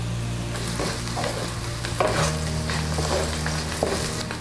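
Cashews frying in oil in a pan for vegetable pulao, a steady close sizzle with a low hum underneath and occasional stirring scrapes, with no talking.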